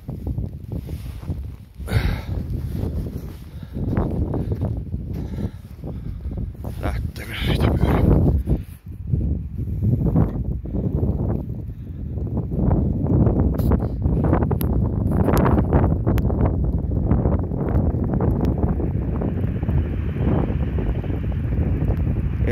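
Strong gusting wind of over 15 m/s batters the microphone outdoors near a small wind turbine, a loud, roaring, buffeting rush that surges and dips, with a person talking at times beneath it.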